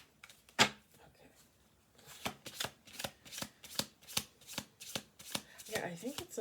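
Oracle cards are shuffled by hand in a steady series of crisp riffling snaps, close and fairly quiet, repeating at an even rhythm.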